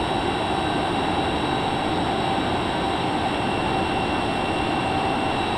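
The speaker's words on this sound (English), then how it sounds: "We need to get our afterburners on." Darkstar jet with afterburners and scramjets roaring in a flight simulator game, a steady, loud, unbroken engine drone with a faint high whine and no talk.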